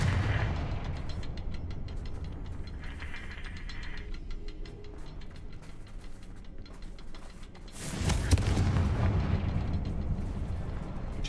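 Confringo explosive spell cast in Hogwarts Legacy, heard as sustained rumbling blasts and crackling, with a sharper, louder burst of explosion partway through, no talk over it.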